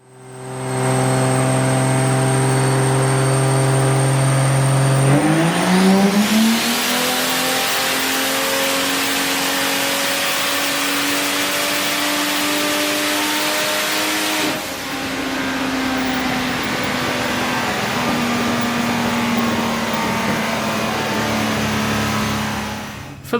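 Turbocharged Vortec 4200 inline-six on a chassis dyno, holding steady before sweeping up through a sustained full-throttle pull, loud and droning with rising harmonics, then easing off near the end.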